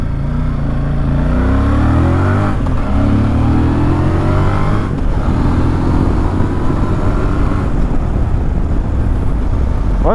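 Voge 625 DSX motorcycle pulling hard out of a hairpin in second gear, a loud, close engine note rising steadily in pitch over several seconds, then rising again, with no talking.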